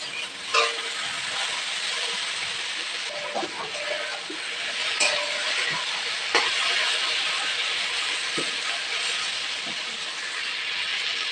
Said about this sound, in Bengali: বেগুনটা ভালো করে ভেজে নেব।